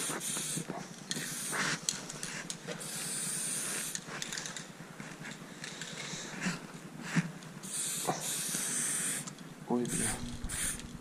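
Aerosol can of Kerry wheel enamel spraying during budget graffiti painting, giving intermittent bursts of airy hissing over about eleven seconds against a noisy background, stopping near the end.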